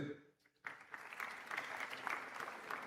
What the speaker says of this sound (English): Just clap for yourself.